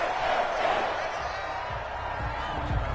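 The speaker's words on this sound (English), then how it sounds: "How about some applause for the defense there?" Stadium crowd noise from a football video game with the Packers playing, a steady roar of cheering that eases a little over a few seconds, with low thumps beneath it.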